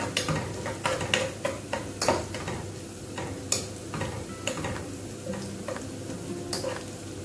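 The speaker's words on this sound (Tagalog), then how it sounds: "Kaya na lang natin siya konting brown ng konti lang guys." Curry tofu browning in a pan, with a steady sizzle under repeated scraping and clinking as a utensil stirs against the pan, fairly close and with no talk.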